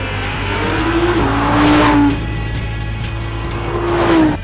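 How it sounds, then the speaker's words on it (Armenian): A V10 engine of an Audi R8 or Lamborghini Huracan revs loudly and close by, with two rising and falling rev sweeps over a constant low idle drone. "V10 շարժիչի բնորոշ ձայնը կվերականգնվի մեքենայի աուդիո համակարգի միջոցով"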